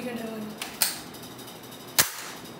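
A toy gun fires two sharp, snappy cracks about a second apart, close and fairly loud, after a voice trails off in the background.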